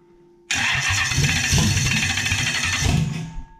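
A Toyota 1UZ-FE V8 running without an EFI temp sensor cranks and catches after a shot of start enhancement, bursting into a loud rough idle close by that holds for a few seconds, then begins to falter.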